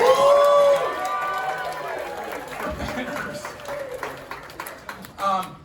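An audience at the 2023 Diana Jones Award presentation applauds. Dense clapping swells under and after a speaking voice and keeps going at moderate loudness.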